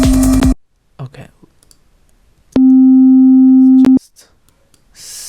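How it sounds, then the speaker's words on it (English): Plain synthesized sine-wave tones with a very short release, a brief burst at the start and then a clean sustained steady tone of about a second and a half, separated by near silence and small clicks. "simple sine wave."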